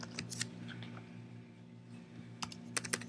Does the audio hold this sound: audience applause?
no